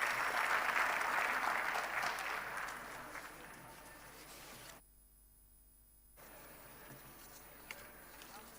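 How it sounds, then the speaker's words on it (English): Audience applause welcoming a speaker at a live-streamed event, a loud sustained clapping that fades over a few seconds, drops to near silence, then returns as quiet room noise. "With a big round of applause,"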